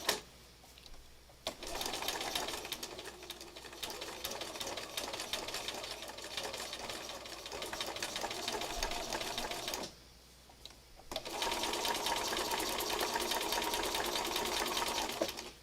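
A sewing machine runs in long sustained bursts as it stitches fabric scraps along a curve, pausing briefly midway before resuming its steady, close mechanical whir.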